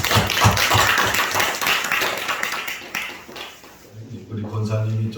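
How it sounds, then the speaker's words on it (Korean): Church congregation clapping during a Sunday worship service, several seconds of scattered, rhythmic hand claps that fade out, with background voices and a sustained musical tone taking over toward the end. "다시 한번 우리 하나님께 영광의 박수 올려드립니다."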